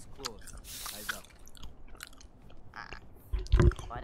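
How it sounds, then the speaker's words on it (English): Chewing and crunching on something while drinking bubble tea, close to a headset mic during an online shooter match, with a loud burst near the end and speech tagged in the clip. "Are you chewing on something?"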